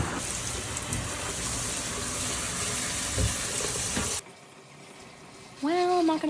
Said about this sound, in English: don't turn the shower on while it's pointed at you